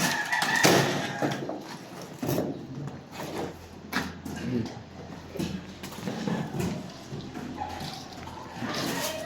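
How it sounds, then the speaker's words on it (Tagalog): Chickens cluck and squawk nearby among ducks, amid splashing and farmyard noise, with people talking intermittently over the birds. "Ang mga manok at bibi."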